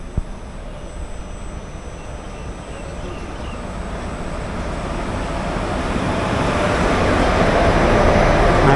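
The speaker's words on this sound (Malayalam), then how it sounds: "ട്രെയിൻ ജസ്റ്റ് കയറി വന്ന് 22026 വാപ്പ്1 EDDXൻ്റെ" A WAP-1 electric locomotive hauling train 22026 rolls into Kollam station, a steady broadband rumble that grows louder and nearer toward the end, with no voices.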